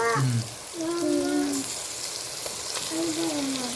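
Mutton keema frying in a pan gives a steady hissing sizzle, while a voice talks intermittently over it.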